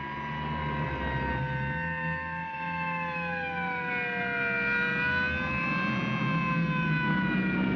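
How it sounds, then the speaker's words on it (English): Several state trooper car sirens wail together, rising and falling in overlapping tones as a group of cruisers comes down a mountain road, loud and continuous throughout with no talk. "You couldn't possibly be surprised with all those sirens blasting"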